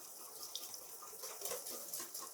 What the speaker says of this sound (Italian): Aggiungiamo l'acqua che prevede la ricetta